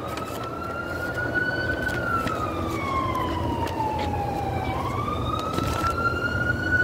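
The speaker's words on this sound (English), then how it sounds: "That's a ambulance." Ambulance siren wailing on a road, a steady rising and falling tone sweeping up and down over continuous traffic rumble, fairly close and loud throughout.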